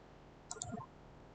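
A few quiet computer mouse clicks come in a quick cluster during work on a project schedule in Microsoft Project, sitting over a faint steady background hiss, with no voices.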